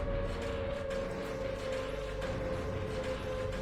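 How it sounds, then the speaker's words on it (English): Sirens wail in a horror video game, a steady droning tone holding throughout under a low rumbling, creaking mechanical bed, moderately faint. "the rolling sound of the sirens gained momentum"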